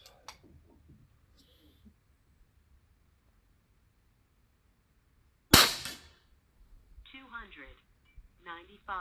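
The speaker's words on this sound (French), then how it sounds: "Je vais refaire un tir." RTI Arms Mora V2 air rifle firing a single 50-grain pellet outdoors: one sharp, loud crack that stands alone, followed after a pause by some faint talk.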